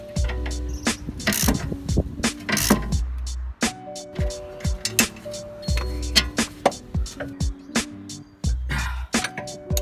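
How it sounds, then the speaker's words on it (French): Stabilizer link bolts on a BMW E46 being loosened with a 16mm socket and ratchet, giving repeated close metallic clicks, clanks and ratcheting bursts in irregular spurts throughout, with occasional tool knocks. "Puis avec une douille de 16, on va desserrer les vis."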